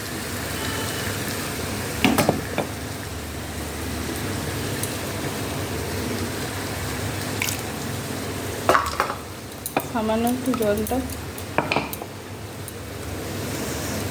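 A ground paste of ginger, garlic, green chili and onion fries with onion and tomato for a mutton keema and chana dish, a steady sizzle broken by loud scraping stirs and clanks of a spoon against the pan.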